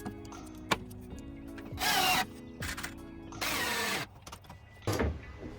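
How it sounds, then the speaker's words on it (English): A drill drives pocket hole screws into wooden mirror frame boards clamped to a table, with three short whirring bursts of a few seconds each and quiet clicks and shop noises between them. "attach them using pocket hole screws"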